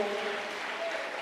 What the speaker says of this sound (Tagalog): Malakas na palakpak po para sa ating mahal na Panginoon.